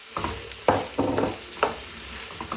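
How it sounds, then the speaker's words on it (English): Okra sizzles in a hot pan while a utensil scrapes and stirs it in several quick, close strokes. "So I'm frying the okra, the bhindi."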